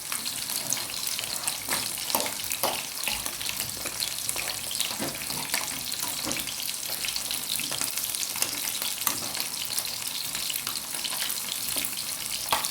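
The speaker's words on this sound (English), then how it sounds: "don't worry about the frying in the background. I'm not frying. I'm cooking curried goat." Curried goat cooking in a pot gives off a steady, broadband sizzle with faint stirring and watery bubbling, continuous and fairly close throughout, with no voices.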